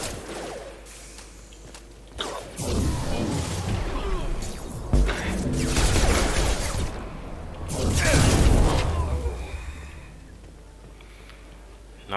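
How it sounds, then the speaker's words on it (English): Mass Effect 2 combat erupts in a series of loud whooshing blasts and crashing impacts, with a large surge near the end as a biotic explosion detonates, interspersed with gunfire-like bursts. "Nothing's better than a biotic explosion in the morning."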